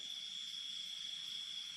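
Crickets chirp in a continuous high, shrill trill at night at an abandoned buffalo slaughterhouse in Thailand, steady and fairly quiet, with no other sounds around them.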